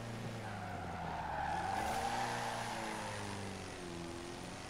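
Car tires squealing and skidding through a drift in Forza Horizon 4, a sustained wavering screech over a revving engine drone, swelling in the middle then easing off, close and loud with no talking.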